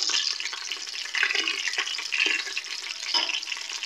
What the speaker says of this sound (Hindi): अब इसके अंदर सफ़ेद ज़ीरा डाल लेते हैं।